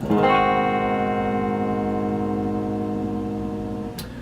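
A single distorted electric guitar chord from a song is struck once and left to ring out, sustaining and slowly fading, with a brief click of noise at the end.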